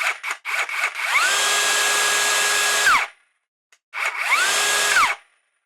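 A DeWalt DCS570B cordless circular saw with a fault, stuttering through short failed bursts, then spinning up in two loud whining runs that cut off abruptly, with a brief quiet gap between them.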